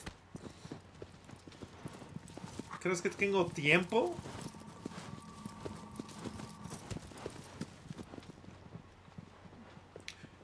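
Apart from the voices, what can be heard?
horse hooves galloping in video game Shadow of the Colossus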